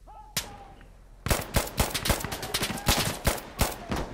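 Gunfire in Insurgency Sandstorm, a lone sharp shot followed after a pause by a rapid, loud burst of repeated shots in quick succession.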